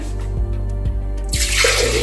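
Plain water poured into a blender jug while making homemade chicken stock cubes, a steady splashing pour that swells in the second half after a quieter, dripping start.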